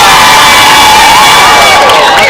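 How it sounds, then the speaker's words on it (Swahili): Pre-teen children at a school health awareness session cheer and shout loudly together for the guest of honour, a dense, sustained roar of young voices with whoops rising near the end. "Wapi nduru ya mheshimiwa?"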